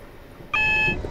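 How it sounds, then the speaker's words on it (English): A sustained electronic cab alarm beep in a Class 444 EMU train simulator starts abruptly halfway through, steady and bright, after a quiet stretch, with low background rumble beneath. "Almost missed that alarm right there."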